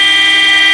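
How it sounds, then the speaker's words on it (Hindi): A Hero Splendor motorcycle fitted with an aftermarket light-up horn gives one loud, steady honk with a bright, reedy tone, held continuously and close with nothing else around it. "अब जरा एक बार हॉर्न दबाओ"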